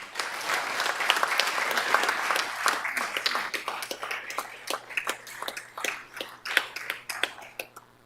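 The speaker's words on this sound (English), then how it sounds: "I think that deserves a round of applause." A council chamber audience applauds a retiring staff member: a dense burst of clapping that gradually thins into scattered, sharper individual claps before fading.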